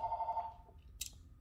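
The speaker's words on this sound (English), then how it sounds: "Sorry, the house phone ringing." A landline house phone trills with a rapid warbling ring for under half a second, then fades. A short hissy noise follows amid low background rumble, with no voices.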